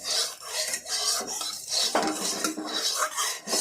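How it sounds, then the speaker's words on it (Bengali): A spatula scrapes and rubs around a metal wok to spread the oil before fish in taro leaves goes in, producing repeated close scraping and clattering strokes in an uneven rhythm. "তেলটাকে কড়াইয়ের চারদিকে ছড়িয়ে নেবেন।"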